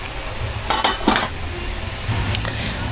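A lid goes onto a pot of cooking sweet potato leaves and Malabar spinach, a couple of close metallic clanks and clinks over a low background hum.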